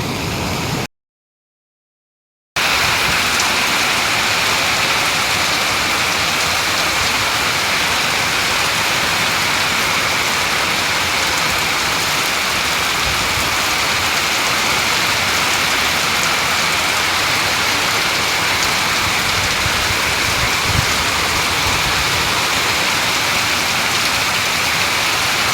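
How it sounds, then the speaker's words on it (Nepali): Heavy monsoon rain pours down steadily in Nepal's Himalaya, a dense continuous hiss after a brief gap of silence near the start, loud and unbroken throughout. "पानी पनि धेरै पर्यो"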